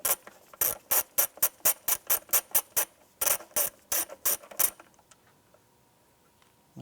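A ratchet with a 10mm socket clicks rapidly while removing a bolt on an Acura MDX engine, two bursts of loud, close, even ratcheting strokes separated by a brief pause, then near quiet.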